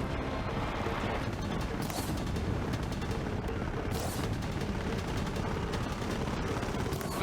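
Gunfire and explosions fill a Horizon Zero Dawn battle as a continuous, dense wash of shots, mechanical clatter and blasts, with a few sharper bursts standing out against the steady rumble.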